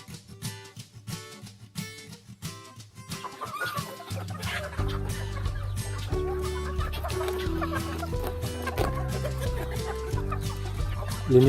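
Rhode Island Red hens on a farm clucking at feeding time, a busy flock close by, starting sparse and growing into continuous overlapping clucks.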